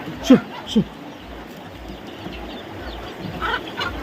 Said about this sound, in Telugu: మన కోళ్ళు అయితే చూడండి ఎట్లున్నాయో